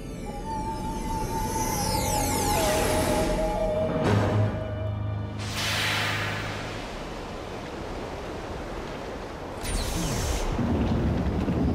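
Thunder in a French adventure audio drama about hunting dinosaurs: heavy rolling rumbles and broad cracks wash over a continuous stormy roar. A faint tone hangs at the start, and there is no speech.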